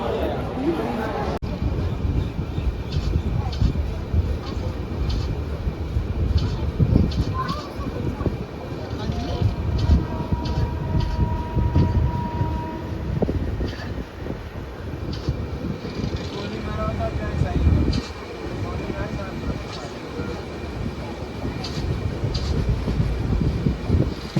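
The Mangala Lakshadweep Express 12618 rolls into Bina Junction, its heavy rumble and rattling wheels steady and close for the whole stretch, with people talking over the noise.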